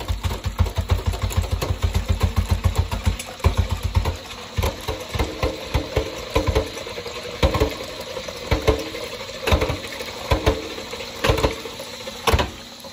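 An apartment-sized spin dryer spins a wet coyote pelt, starting as a fast rhythmic thumping motor that slows into uneven knocks and rattles, close and alone.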